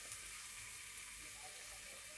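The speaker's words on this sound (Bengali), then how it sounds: "দিয়ে এর মধ্যে আমি অল্প একটু ঘি দেবো" Ghee sizzling in a pan while aloo dum cooks, a faint, steady hiss and crackle of frying that runs unbroken and quiet throughout.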